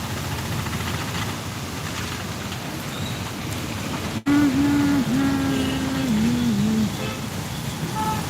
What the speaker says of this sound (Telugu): వర్షం ఘోరం కొడుతుంది